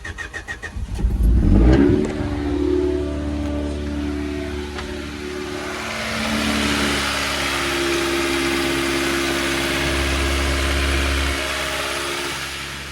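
A Honda CRX, its fuel leak just repaired, cranks and starts, then runs steadily near the microphone with a deep idle hum and a brief rev around the start; no one speaks.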